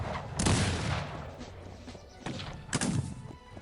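Musket volleys from massed troops in the strategy game Cossacks 3 come in two sharp, booming crackling bursts, each trailing into rumble, with quieter battle thuds in between.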